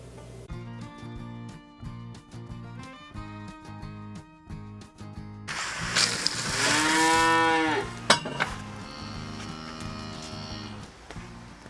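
Dairy cows on a winter farm moo loudly and repeatedly, one long drawn-out call standing out above steady barn noise and clanking.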